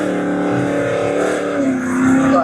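A drag car at Manston Raceway roars past at a run-what-you-brung event, a loud, continuous engine note that swells and shifts pitch near the end.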